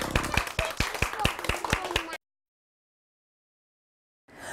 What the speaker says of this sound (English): And give yourselves a very big clap.